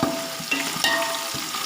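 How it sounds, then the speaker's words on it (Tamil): Mint, coriander and green chilies fry in hot oil for beef biryani, a close, busy sizzle broken by quick stirring scrapes over less than two seconds. "அது வரைக்கும் நல்லா வதக்குங்க"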